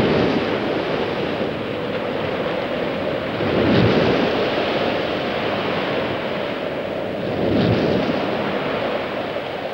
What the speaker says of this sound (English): The entrance to Port Phillip, known as the Rip, provides confused seas